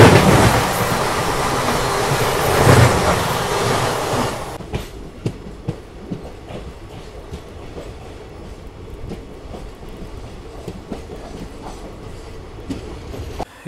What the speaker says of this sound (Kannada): Haripriya express crossing.